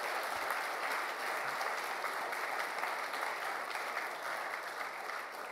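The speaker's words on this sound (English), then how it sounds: "I would very much like a round of applause for our panelists" Steady, moderately distant applause from a conference audience for a panel of speakers at a general assembly, even clapping sustained throughout with no voices over it.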